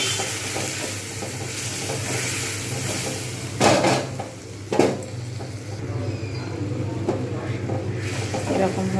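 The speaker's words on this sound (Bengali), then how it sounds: "এইভাবে কিন্তু আমি কন্টিনিউ নাড়ব মশলাটা একসঙ্গে মিক্স হচ্ছে" A spice mix is stirred in a pan over low heat for Bengali muri ghonto made with rui fish head, giving a steady low sizzle broken by two distinct scrapes of the spoon against the pan.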